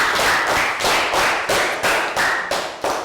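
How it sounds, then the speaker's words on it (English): A small group claps in a steady rhythm of about ten loud, evenly spaced hand-slaps, close by and with no talking. "So round of applause."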